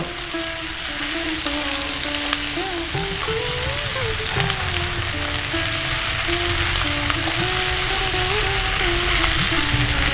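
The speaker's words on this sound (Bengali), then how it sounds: "এবারে কড়াইশুঁটিগুলো দিয়ে দিচ্ছি।" Frozen green peas frying in a hot wok for a mixed vegetable dish give a steady, close sizzle that runs the full length with little change in level.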